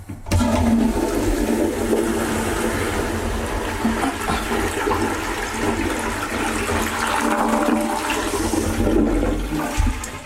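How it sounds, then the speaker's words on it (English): A toilet flushes after its control stop valve was replaced, a strong close rush of water swirling down and refilling steadily for about ten seconds, with no talking. "Now that is a nice flush."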